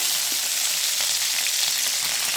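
Chana dal and curry leaves temper in hot oil for a carrot and thick poha dish, giving a loud, dense, even sizzle that runs steadily throughout without any voices.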